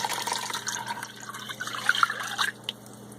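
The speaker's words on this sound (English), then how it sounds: "we're going to add this 2 cups of milk right into this" Two cups of milk poured into a pot of chicken pot pie chowder, a soft, close liquid trickle with gentle bubbling and drips, fairly quiet and with no talking.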